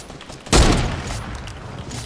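A single loud, sharp Barrett sniper rifle shot in a video game, a sudden blast with a booming tail that fades over a second and a half.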